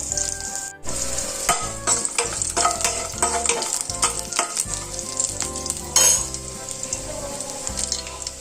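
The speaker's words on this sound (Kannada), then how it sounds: "ಸ್ವಲ್ಪ ಬೆಳ್ಳುಳ್ಳಿಯನ್ನು ಜಜ್ಜಿಟ್ಕೊಂಡಿದ್ದೆ, ಅದನ್ನು ಸಹ ಹಾಕಿ ಫ್ರೈ ಮಾಡ್ಕೋಬೇಕು ಚೆನ್ನಾಗಿ." Crushed garlic sizzles loudly in hot oil in a pan for a coastal-style chicken gravy, with steady crackling and spattering and occasional utensil scrapes, close and with no talking.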